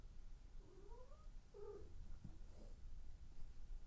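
A cat in the video game Graveyard Keeper gives a few short, wavering meows and yowls over a steady low background hum, at close range and moderately loud, with no talking.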